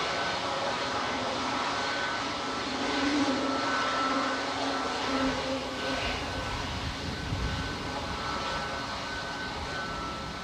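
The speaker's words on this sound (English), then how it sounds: "Wind is causing some really amazing noises from the Sun Express and that" A SunExpress jet's engines at Manchester Airport give a steady, broadband roar with wind gusting past them. The sound swells slightly midway and stays loud and continuous throughout.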